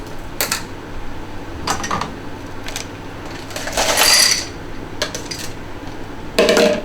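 Frozen blueberries drop into a blender in a handful of separate rattling bursts, each a brief hard clatter against the jar, with quiet gaps in between.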